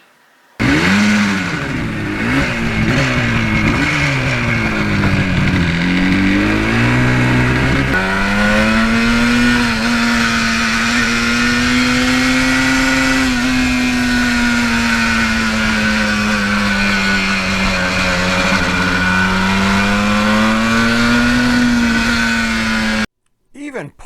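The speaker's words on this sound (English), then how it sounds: "Just pulling out of the driveway and pulling out onto the main road can be so nostalgic." A 1977 Yamaha RD400 two-stroke motorcycle pulls out onto a road, its engine loud and close as it revs up through the gears, then settles into a steady, buzzing drone. No one speaks.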